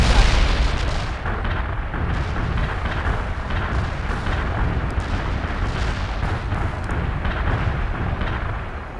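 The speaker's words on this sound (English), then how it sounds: "Artillery barrage during the target area ended up." An artillery barrage pounds a target area in the real-time strategy game World in Conflict. Loud, overlapping booms and rumbling impacts blend into a dense roar that lasts the whole stretch with no voices.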